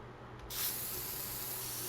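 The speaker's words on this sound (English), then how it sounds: "spray around this" A spray effect in The Sims 4 lets out a steady, close, broadband hiss that swells in at once and holds evenly to the end, with no talking over it.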